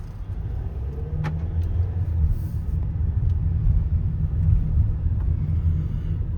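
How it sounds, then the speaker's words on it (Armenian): Steady low engine rumble and road noise from inside a moving car, continuous and fairly loud throughout, with a faint brief jingle near the start and no talking. "Ես արդեն ավտոմեքենայի մեջ եմ, գնացինք"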